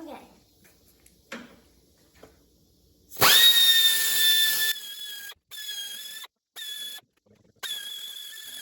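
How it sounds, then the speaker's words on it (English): A handheld power grinder works on metal during a go-kart repair, winding up with a sustained whine, then stopping and restarting in several short bursts, with voices talking in quiet spells before it. "Mr. Jack, do some grinding."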